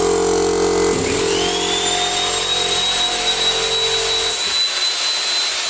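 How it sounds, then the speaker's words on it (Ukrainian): A circular saw runs up to speed, a steady loud whine rising and holding as a rumbling compressor drones beneath, then the low hum drops away near the end while the saw keeps going. "Тепер включаємо циркулярну пилу."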